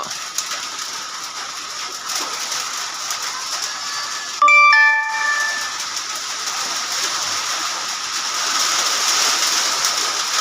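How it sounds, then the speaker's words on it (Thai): Steady, dense hiss of heavy rain pouring down throughout, briefly interrupted by a short electronic chime partway through. "ฝนตกฝนตก"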